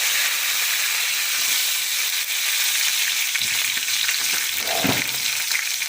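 Mustard seeds and curry leaves sizzle and spit steadily in hot oil for a roadside-style sambar tempering, a constant close frying hiss with a few louder pops near the end.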